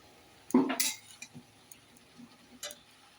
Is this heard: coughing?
no